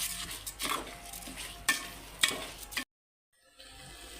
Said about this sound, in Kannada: ಈಗ ಈ ಅಕ್ಕಿಯನ್ನು ಚೆನ್ನಾಗಿ ಮಿಕ್ಸ್ ಮಾಡಬೇಕು.